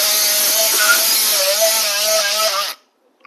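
An oscillating bone saw cuts bone during total knee replacement surgery, run at full speed. A loud, steady high-pitched buzzing whine lasts under three seconds, then stops abruptly.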